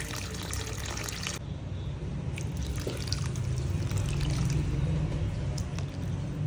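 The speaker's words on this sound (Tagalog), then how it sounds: "At ito na nga pala yung pangatlong paglalagay ko ng tubig." Water is poured into a cooking pot of bulalo, a steady close splashing trickle that runs continuously without any voices.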